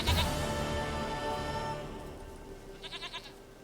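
In The Witcher 3, a goat bleats nearby with a sustained, wavering cry that fades out, followed by a short burst of quieter stuttering bleats.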